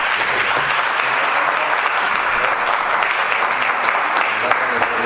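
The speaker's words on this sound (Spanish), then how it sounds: "muchas gracias. Un aplauso." An audience claps after a lecture, dense sustained applause filling the room for several seconds at an even, loud level.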